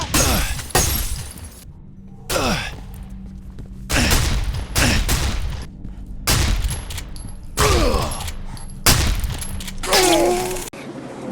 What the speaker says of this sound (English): why is this guy fucking shooting a shotgun like it's a machine gun